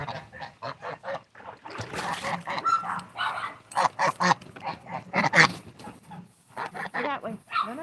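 Canada geese and goslings honk repeatedly by a backyard pool, sharp nasal calls coming in quick irregular bursts, close and fairly loud, with other birdlike squawks mixed in.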